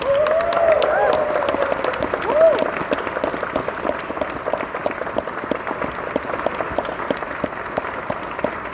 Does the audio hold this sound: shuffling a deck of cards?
no